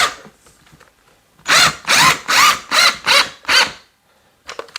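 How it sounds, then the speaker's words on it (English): A power drill drives a screw into the mount of an RGB LED wall sconce, loud and close, in six quick bursts of whirring separated by short pauses, with quiet handling before and a brief rattle after. "so just run my screw right through here."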